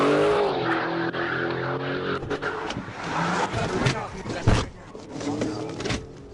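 A fleeing Dodge Challenger revs hard with tires skidding and squealing in a police chase, close and loud, with a narrator talking over the driving noise.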